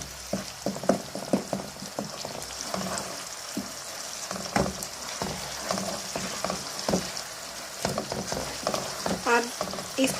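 Yogurt and masala are stirred and fried together in a pan for chicken kofta curry, a close sizzle broken by repeated scraping spoon strokes in an uneven rhythm.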